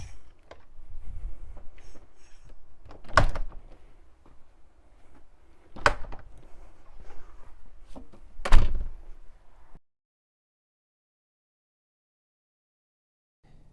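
A door fitted with a Dörrbroms door brake closes in a series of dull thunks, three firm hits a few seconds apart over soft handling noise, then quiet.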